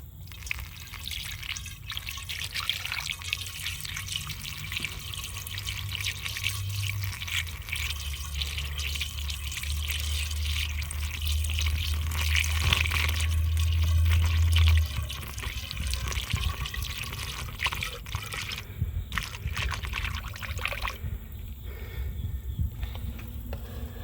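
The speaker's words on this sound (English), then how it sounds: "In the coolant goes." Coolant is poured into the radiator of a 1995 Nissan 240SX, a steady close trickle and splash of liquid filling the system, with drips and gurgles continuing after the pour eases.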